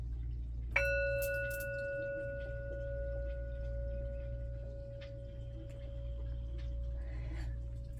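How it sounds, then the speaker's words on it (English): A single strike on a sound bowl, then a clear, pure ringing tone that sustains for several seconds over a low background hum. "Sound bowl."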